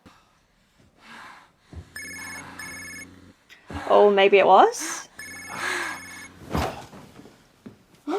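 A telephone rings in a TV episode in short repeated bursts of bright electronic tone, each burst broken by brief pauses, heard among people reacting and talking over and between the rings.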